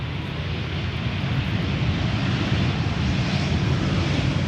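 An EasyJet Airbus A319 arriving at Amsterdam Schiphol from Prague gives off a sustained engine roar that grows slightly louder as it nears, steady and without talk.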